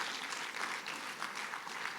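A church congregation applauds during a Spanish-language worship service, a steady wash of many hands clapping at moderate volume, quite distant and even throughout.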